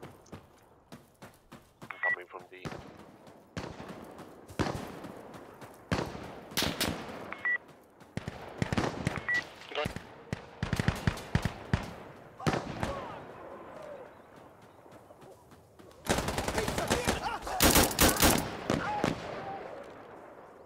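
Automatic rifle fire in Insurgency Sandstorm comes in sharp, repeated bursts of shots, some rapid and clustered, with a louder volley near the end. Voices talk between the bursts.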